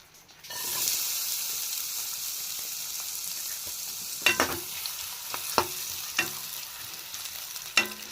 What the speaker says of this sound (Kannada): ಎಣ್ಣೆ ಕಾಯ್ಕಿಟ್ಟು ಈಗ ಇದ್ರಾಗ ಏನು ಅಂತಂದ್ರೆ ಉಳ್ಳಾಗಡ್ಡಿ ಹಾಕೊಳ್ಳನ್ರಿ